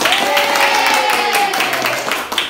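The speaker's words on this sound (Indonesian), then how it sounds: "tepuk tangan semangat" A classroom group claps hands together in a dense, lively burst of applause, close and sustained, with crowd noise mixed in throughout.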